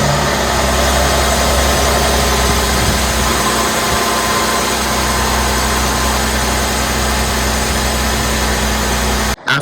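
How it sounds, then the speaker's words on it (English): A Mercedes-Benz GLE engine rumbles at a steady idle, loud and close, with constant vibration throughout before it suddenly cuts off. "So let's start the car."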